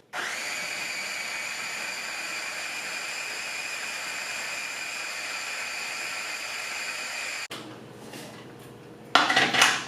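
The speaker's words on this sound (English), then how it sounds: "you're gonna close this up and blend well" Blender running steadily as it purees hummus until creamy, a loud constant high-pitched whir for several seconds before it stops, followed by a brief clatter of the jar or utensils.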